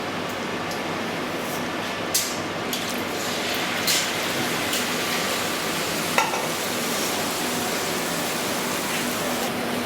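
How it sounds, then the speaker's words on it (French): Tomato coulis of fresh and dried tomatoes poured into hot olive oil in a paella pan, a steady loud sizzle and bubbling hiss with a few soft clinks of stirring, no talk. "On est en train de mettre notre coulis de tomates."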